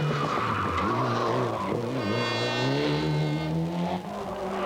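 Subaru Impreza rally cars race hard on a 1997 World Rally Championship stage, with loud engines revving and changing pitch and tires skidding on the surface.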